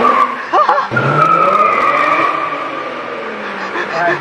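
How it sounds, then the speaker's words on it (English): A flash-tuned car roars loudly and continuously up close, its engine accelerating hard with a sustained raspy drone for the whole stretch, while a person briefly exclaims in the cabin. "The car is stupid loud."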